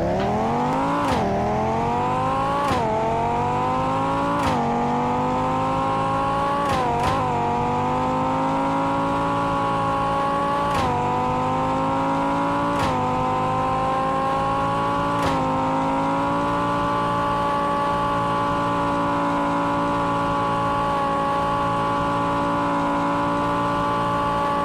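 Steady, loud engine drone of a car driving in the Roblox game Car Dealership Tycoon, its pitch climbing through a series of quick gear shifts in the first half before settling into a sustained cruising whine, heard alone without talk.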